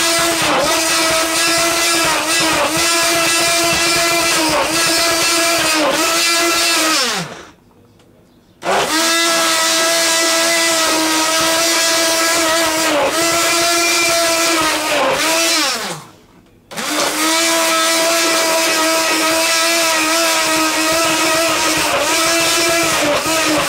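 A blender whirs loudly while making a strawberry banana milkshake, running in long steady bursts with a motor whine that drops away during two brief pauses before starting up again.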